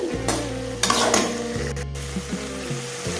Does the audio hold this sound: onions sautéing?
yes